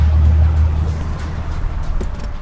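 Pontiac G8 GXP with a 6.2-liter, 400-horsepower engine driving, a low steady rumble of engine and road noise heard from inside the car, with no talk.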